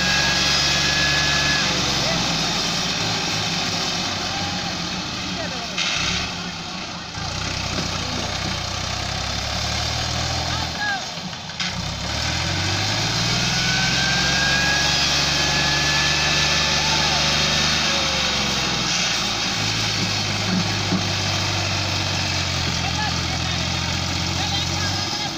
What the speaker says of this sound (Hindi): दोस्तों ये ट्रैक्टर है